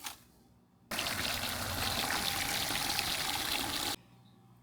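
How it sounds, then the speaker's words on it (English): Water pours steadily into a 5-gallon bucket, a loud continuous splashing rush that starts abruptly, runs for about three seconds and cuts off, with a quiet room before and after. "I just filled up a 5-gallon bucket with a little bit of water"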